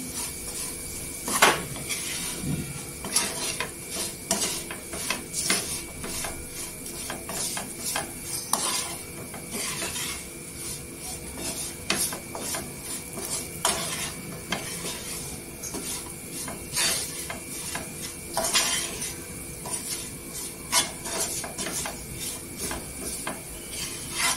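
Dry spices being stirred into potatoes in a pan for a spicy Maharashtrian potato fry, with continuous scraping and stirring, a soft sizzle underneath and occasional sharper scrapes of the spoon against the pan, close and steady.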